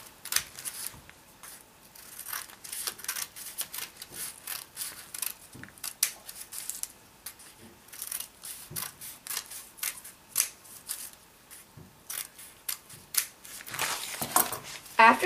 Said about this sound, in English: take your scissors and cut 4 strips in the triangle, starting on the opposite side of the fold, cutting toward the fold